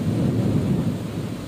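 Deep, continuous thunder rumbles loudly through a heavy rainstorm at an organic farm greenhouse, with a dense wash of rain underneath and no pauses.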